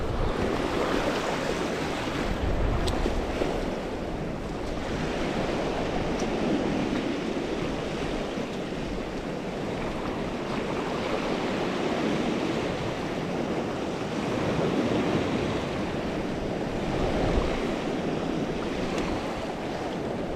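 Storm Babet swell surging onto a rocky shore at Combe Martin while strong wind blows across the coast, giving a loud, continuous roar of surf and wind buffeting with slow rising and falling swells.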